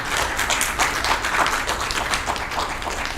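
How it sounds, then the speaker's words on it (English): An audience at a piano masterclass claps after a performance, a dense steady patter of many hands that fills the room evenly for a few seconds with no talk. "Give them a round of applause."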